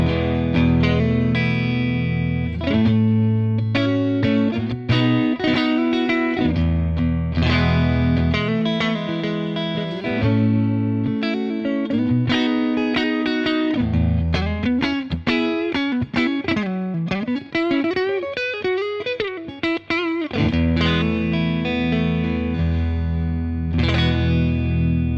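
Clean electric guitar with a bright, glassy single-coil tone from a Vola OZ ROA DSE superstrat, playing chords and melodic runs continuously with chorus and light distortion effects, loud and up close.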